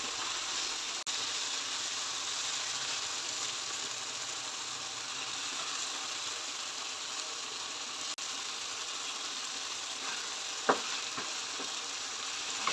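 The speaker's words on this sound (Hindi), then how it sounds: "चलिए इसकी 3 से 4 मिनट अच्छे से बुनाई करते हैं" Mutton trotters frying with spices in a pot give a steady, even sizzle that runs unbroken throughout, close and moderately loud, with a few brief clinks of a utensil near the end and no talking.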